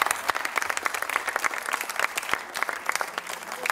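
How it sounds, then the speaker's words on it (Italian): Audience applause at a Miss Universe Italy pageant in Italy, steady dense clapping from a crowd filling the room for several seconds, with a voice faintly mixed in. "un applauso"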